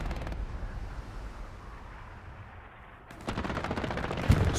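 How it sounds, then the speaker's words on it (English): Strafing-run gunfire in an online multiplayer shooter: a sustained dense rumble of rapid shots that dips, then surges into louder, sharper bursts near the end, with no talking. "Strafing run goes through."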